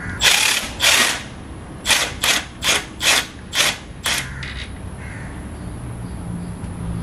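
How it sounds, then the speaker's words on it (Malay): Right angle impact wrench removing a 14mm gearbox bolt during clutch plate and flywheel oil seal work, with two long rattling bursts followed by five or six short, sharp hammering pulses, close and loud, then quiet shop ambience. "Sekali lagi saya pakai right angle impact Kemudian cabut bolt ketiga"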